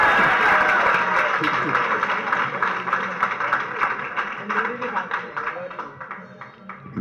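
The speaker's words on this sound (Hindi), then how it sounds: "सभी लोगों ने तो ताली नहीं बजा, जो मंडला वाले थे वही बजा।" Scattered applause from part of an audience at a one-day Jain religious discourse by Acharya Vidyasagar Ji Maharaj, steady rapid clapping that thins out over several seconds, mixed with voices in the room.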